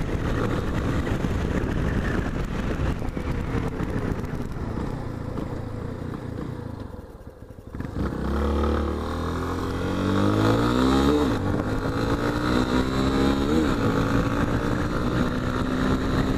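Yamaha Tenere motorcycle engine held at high rpm in the early morning, a sustained loud roar that dips briefly, then returns with rising and falling revving tones, no speech.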